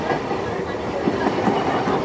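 The 13187 Maa Tara Express on the Kolkata to Bolpur run rolls along the rails on a rainy winter day, a steady, dense rumble and rush of wheels heard throughout, with no voices.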